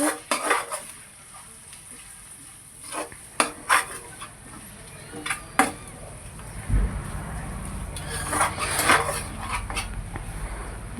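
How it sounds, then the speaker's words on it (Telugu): Onions for an egg fry are mixed in a pan with turmeric and salt, producing scattered metallic clinks and scrapes of a spoon against the pan over a faint sizzle, with quieter pauses between strokes. "అందులో కొంచెం పసుపు టేస్ట్కి సరిపడా ఉప్పు వేసుకొని అంతా కలిసేలా కలుపుకోవాలి"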